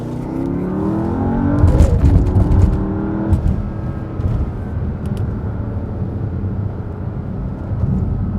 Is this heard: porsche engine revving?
yes